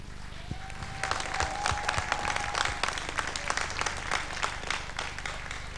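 A studio audience on a Turkish television variety show breaks into applause, a full burst of many hands clapping that swells and holds steady, with faint voices mixed in.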